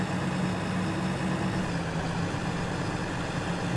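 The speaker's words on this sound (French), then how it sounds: "On entend bien le régime, ça étire dessus." A tractor engine in Farming Simulator 15 idles with a steady, low, even hum and faint tonal whine, continuous throughout with no talking.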